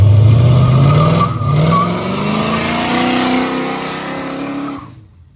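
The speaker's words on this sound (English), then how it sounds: "Brake torque it a little bit." A car with a 383 engine and no roller rockers revs hard while brake torqued outdoors in cold air, a loud, sustained roar climbing steadily in pitch for several seconds before cutting off abruptly.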